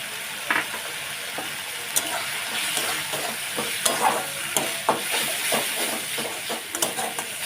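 Soybean curry masala with salt, turmeric and chili powder sizzles in hot oil while a spoon stirs it. A constant close frying hiss carries repeated scraping strokes at an uneven, brisk rhythm.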